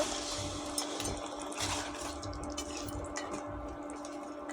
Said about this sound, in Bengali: এবার আমি ভালো করে নেড়ে দেব।